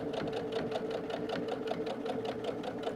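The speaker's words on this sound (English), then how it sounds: "back stitch, and sew back through, right on that marked line" A sewing machine back stitches through a fused-applique canvas tote. Its needle chatters in a fast, steady, close rhythm with a constant motor hum beneath it, alone for the full three seconds.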